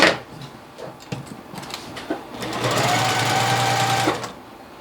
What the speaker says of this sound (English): I'm going to sew together my mini 4-patch with my one larger background piece.